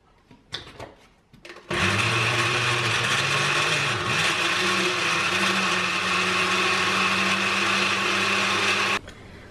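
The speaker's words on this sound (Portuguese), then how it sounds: "É só para ajudar a bater o pêssego." A blender whirs loudly for about seven seconds, blending peaches into a concentrated juice, after a few clattering knocks as it is set up, its motor holding a steady roar before cutting off abruptly.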